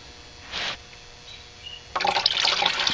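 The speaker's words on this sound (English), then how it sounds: "still sloshing some of the fluid out" Automatic transmission fluid sloshes and splashes out of a tilted oil pan on a Mercedes 722.6 gearbox, a brief pour near the start and then a louder, sustained liquid splatter, close by with no talk.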